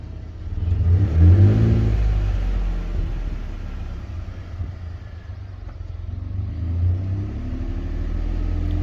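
A car engine revs up with a deep rumbling surge to about 2,000 rpm, eases to a steady idle-like hum, then climbs again near the end.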